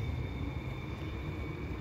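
A passenger train pulls away from a station platform, giving a steady low rumble with a faint whine, continuous and fairly close, with no voices.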